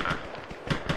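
A few sharp rifle gunshot cracks in the military game Arma Reforger, in quick succession, fairly close and punchy over faint background battle noise.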